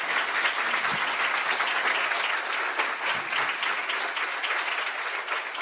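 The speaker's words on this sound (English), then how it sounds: "Big applause." Audience applause fills the hall after Rosemary O'Leary's talk at a school, a dense, steady wash of many hands clapping at even loudness throughout, alone with no voices over it.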